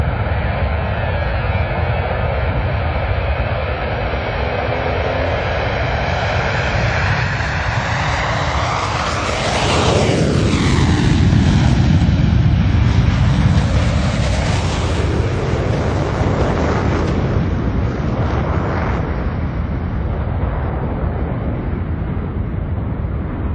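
Blue Angels jets in afterburner roaring past at an air show, a loud continuous rumble that swells to a peak near the middle with a sweeping pitch shift as they pass, then trails off into a broad roar.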